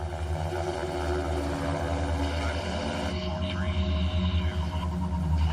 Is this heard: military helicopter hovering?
yes